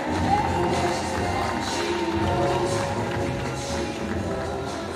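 Spectators applauding a Dutch junior champion at a national swimming meet, a steady wash of clapping and crowd noise in an echoing pool hall, holding level for the whole stretch.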